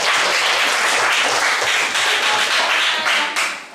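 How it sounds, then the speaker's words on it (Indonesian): A burst of applause from a school class clapping hands together, dense and loud, fading slightly at the end. "Tepuk tangan dulu."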